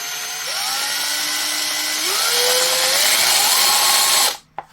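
A Parkside 12V cordless angle drill, model PWBSA 12 A1, whirs close by at its lowest speed. Its whine climbs in a few small steps as the trigger is squeezed, then cuts off abruptly.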